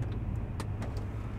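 A Lexus GX470 with a straight-pipe exhaust gives off a low, steady rumble heard from inside the vehicle, a continuous droning hum with a few faint clicks over it.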